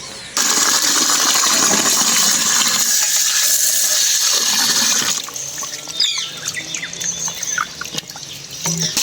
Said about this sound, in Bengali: লেবুগুলোকে ভালো করে ধুয়ে নিই বন্ধুরা এই দেখুন লেবুর গায়ে যতটা নোংরা আছে ভালো পরিষ্কার করে ধুয়ে নিচ্ছি